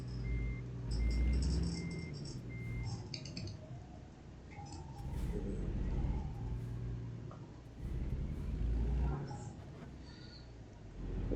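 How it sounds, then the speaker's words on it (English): A truck backing up with a trailer in American Truck Simulator, its reverse alarm repeating steady evenly spaced beeps over a low continuous engine drone, clear and moderately loud, with no talking. "we're gonna have to try and back out very strategically, but not have our trailer end up on the road"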